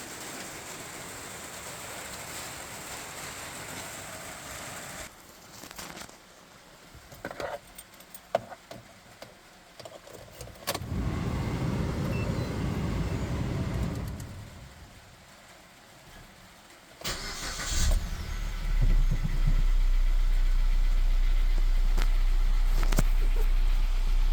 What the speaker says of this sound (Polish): Odpalę auto.